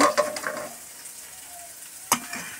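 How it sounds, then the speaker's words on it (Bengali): Radish greens frying in a pan in a home kitchen, with a soft continuous sizzle and a few sharp stirring scrapes, one louder clatter near the end, close by. "আর দেখো মূলো শাক ভাজা হচ্ছে"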